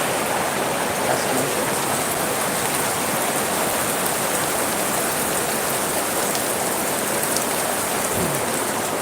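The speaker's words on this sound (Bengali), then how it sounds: "অনেক জোরে বৃষ্টি হইতেছে" Heavy rain pours down outdoors at night, a dense, even hiss of drops drumming on surfaces, loud and unbroken from start to finish.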